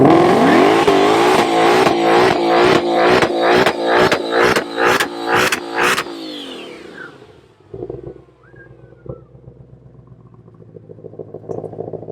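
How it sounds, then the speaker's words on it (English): A Ford Mustang Shelby GT500 does a burnout, its engine roaring loud and close in repeated pulsing revs for about six seconds, then dropping off to a lower, rougher idle rumble as the noise fades. "and let's do this burnout."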